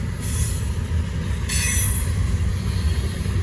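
A Norfolk Southern empty high-and-wide freight train rolls past close by with a steady rumble, and its wheels squeal sharply in high-pitched bursts over the rumble.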